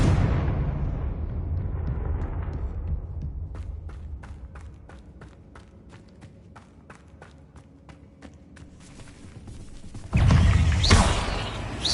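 Confringo explosive spell in the Hogwarts Legacy video game, fired in a spider-breeding lair: after rumbling movement and a run of sharp rhythmic clicks, a loud sudden blast bursts out near the end and rumbles on.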